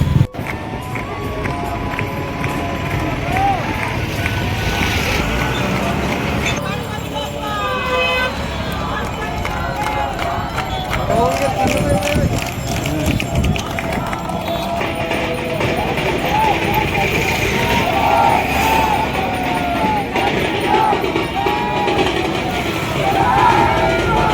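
A dense crowd of people gathered on a bridge for a Ganesh idol immersion, a steady, busy wash of many voices and movement with horns honking now and then, talk running through it the whole time.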